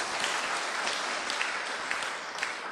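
An audience applauds steadily at a motivational talk on giving, a dense, even wash of clapping with a few sharper individual claps standing out, fairly quiet and continuous throughout.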